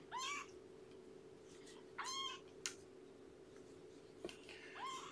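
A young kitten at feeding time gives several short, high meows spaced a few seconds apart, close and clear over a quiet steady hum.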